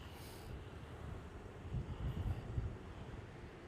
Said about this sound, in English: Also very windy.